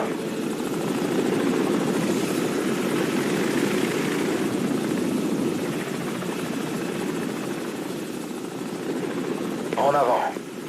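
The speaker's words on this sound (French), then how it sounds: "Hélicoptère ennemi, baissez-vous." Enemy helicopter in Call of Duty, a steady loud rotor and engine drone running throughout with a brief sharper burst near the end.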